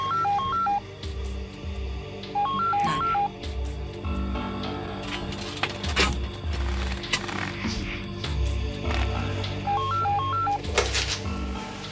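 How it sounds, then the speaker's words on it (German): Telephone ringing in a house, repeated electronic trilling bursts at regular intervals, loud and close, against quiet background sounds. "Moni, kannst du rangehen und sagen, dass ich schon weg bin?"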